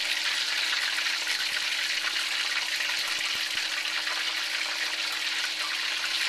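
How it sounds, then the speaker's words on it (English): Battered squid pieces hiss and crackle steadily in hot cooking oil, a dense, even sizzle that holds at the same level throughout, with a few faint low knocks underneath. "I'm taking this squid out of the batter, dropping it into the oil."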